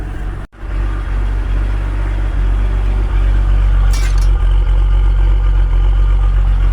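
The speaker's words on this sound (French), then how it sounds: "démarrage à froid avec une toute petite batterie de pauvre petite 308" Peugeot 308 engine idling steadily just after a cold start, with around 200,000 km on the motor and a weak battery; a close, continuous low rumble with a brief dip at the start and a short high chirp midway.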